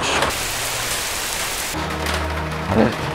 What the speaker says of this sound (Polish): Na zewnątrz pada radioaktywny deszcz.